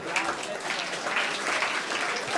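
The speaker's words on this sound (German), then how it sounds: "Also nochmal Applaus." Steady, fairly faint applause from a small audience at a coaching event, a dense wash of clapping with no voices over it.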